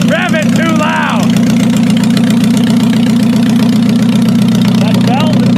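A just-started car engine idles with a steady, loud mid-pitched rumble and a faint knocking undertone, while voices talk briefly over it.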